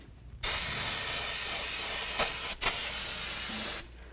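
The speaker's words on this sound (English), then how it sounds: "we're going to clean down the area so there's no more brake fluid on here" Brake cleaner sprays in one steady, close hiss onto the rear brake caliper of a 2004-08 Ford F-150, breaking briefly twice before the can stops.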